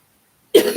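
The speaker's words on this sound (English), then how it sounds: "I'm coughing so close to the mic." A single sharp cough right up against the microphone, loud and abrupt after a moment of silence.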